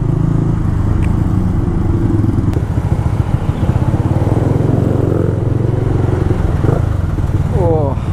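A 150cc-class motorcycle revs unevenly as the clutch grabs and jerks, the engine pulsing in a rough, stuttering rhythm close to the rider. Wind buffets the microphone and brief chirps come near the end.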